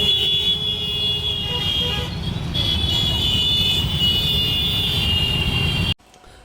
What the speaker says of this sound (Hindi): तो देखिए वीडियो में ट्रैफिक में कितनी आवाज़ आ रही है।